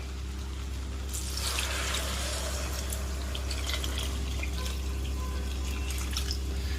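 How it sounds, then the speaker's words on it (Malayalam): Water pours into a pot of basmati rice for masala khichdi in a steady splashing stream over a constant low hum, starting abruptly and continuing throughout. "അപ്പോൾ നമുക്ക് വെള്ളം ഒഴിച്ചു കൊടുക്കാം"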